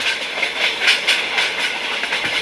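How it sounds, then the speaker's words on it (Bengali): A train speeds through small towns in Uttar Pradesh on a rainy day, its loud, continuous rushing roar close by, with rhythmic pulses of wheels over rail joints and no voices. "ট্রেন ছুটতে থাকল ঝড়ের গতিতে"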